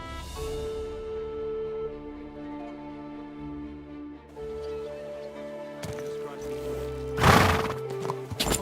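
Horse neighing and clopping hooves in the video game Kingdom Come Deliverance 2, set in the city of Kuttenberg, with a loud whinny near the end over steady game music and a voice speaking.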